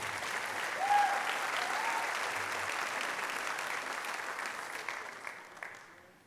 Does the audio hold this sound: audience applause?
yes